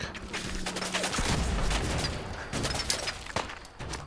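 Gunfire in the video game Fallout 4: a dense burst of rapid shots, booming impacts and loud crackling fire, then a few more scattered sharp shots toward the end, all close and loud, with no talking.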